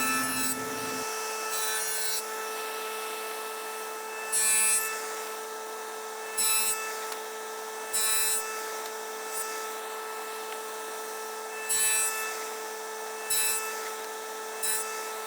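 A saw works a 1/8 inch deep cut into the side of a wooden indoor bench in short, separated strokes against a steady background hum, each stroke brief and close with quiet gaps between.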